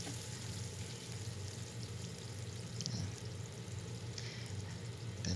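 Garlic, ginger and onion sizzle in hot oil with a steady, soft crackling hiss, close up and continuous, with a faint clatter of stirring near the end.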